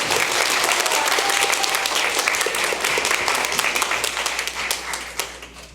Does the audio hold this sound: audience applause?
yes